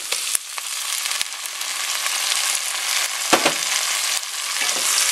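Onion and tomato sautéing in a pan for a pork-and-ribs pochero give a bright, steady sizzle, close and fairly loud, broken by a few sharp clinks and scrapes of a utensil against the pan.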